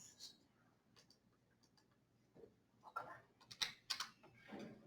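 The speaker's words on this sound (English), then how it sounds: "Are you just typing in those 2 things?" Typing on a computer keyboard, a faint scatter of light clicks that grows into a denser cluster of sharper keystrokes near the end, close by and with no talk over it.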